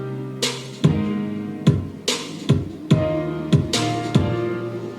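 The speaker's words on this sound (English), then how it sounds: "Future bass has more of a swing to it, and it has a different layout for the kick drums." Swung future bass beat with heavy, uneven kick drum hits landing at irregular offbeat spacing under sustained bright synth chords, loud and upfront with no voices.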